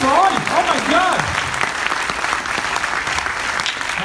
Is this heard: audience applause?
yes